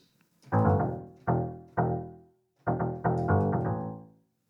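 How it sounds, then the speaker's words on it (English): Several plucked, bass-heavy synth notes from a guitar sampled through a telephone play in an uneven phrase, each decaying quickly with a woody, upright-bass-like attack, alone and fairly loud. "it's just sounds like a bad upright bass."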